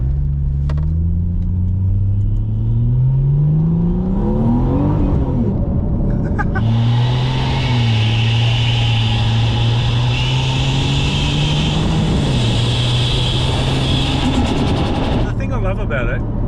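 A turbocharged car pulls hard through the gears, engine drone climbing then dropping at each shift, with a steady boost whoosh and hiss layered on top. The sound is loud and close, as heard from inside, and occupants talk over it.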